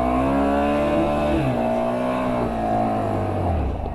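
A two-stroke off-road vehicle engine revs hard and close, holding a loud, buzzing drone whose pitch sags and then climbs again, with no clear talk over it.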